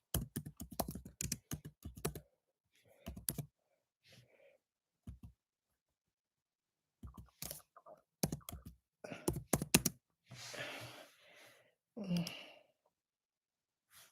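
Bursts of keyboard typing, quick clustered key clicks, come in and out with pauses, mixed with breathy sighs and a bit of talking.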